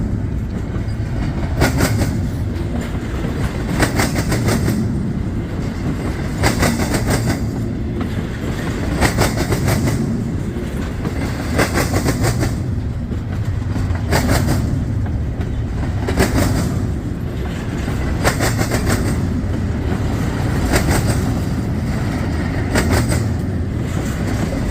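CSX intermodal freight train rolling westbound through the Galatea crossing, a loud, steady rumble with regular clickety-clack wheel beats repeating as car after car passes close by.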